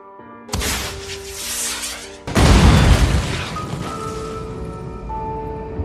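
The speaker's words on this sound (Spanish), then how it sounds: "una explosión surgió de la nada" Two loud booming explosion sound effects, the second heavier, each followed by a long crackling, rumbling tail like falling debris in a dramatized school massacre scene.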